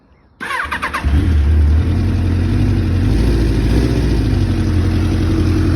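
A 1999 Kawasaki ZRX1100R motorcycle with a swapped-in 1200R engine and aftermarket exhaust cranks and fires up from cold, then settles into a loud, steady, slightly lumpy idle close by.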